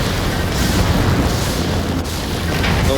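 Heavy mech cannon fire in the video game Vox Machinae, a dense continuous barrage of booming blasts and rumble, loud and close with no voices over it.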